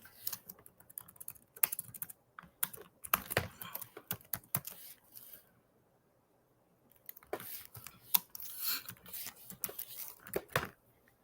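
Close, quiet clatter of typing on a computer keyboard in two flurries of irregular keystrokes, separated by a silent pause of a couple of seconds.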